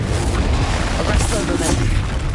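A Confringo blasting spell explosion in Hogwarts Legacy, a loud sustained booming rumble filling the whole moment, with a voice speaking over it.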